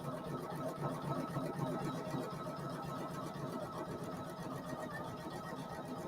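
A Poolin EOC06 single needle embroidery machine stitches steadily up close, a dense rapid mechanical chatter that holds an even level throughout without pause.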